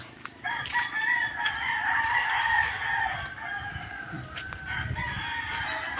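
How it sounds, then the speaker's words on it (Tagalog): Chickens on a rural Philippine roadside cluck and a rooster crows nearby, a long drawn-out call over scattered clucks and outdoor background noise. "Kinakaykay po ng manok."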